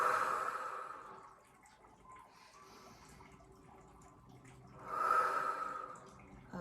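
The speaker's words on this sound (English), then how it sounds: "just breathe really deeply from your lower belly" A person takes slow, deep breaths from the lower belly: one long, airy breath fades out, there is a quiet pause, and a second full breath follows. The breathing is close and soft, with no talking.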